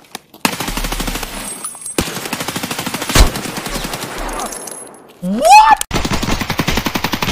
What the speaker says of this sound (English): You shot him!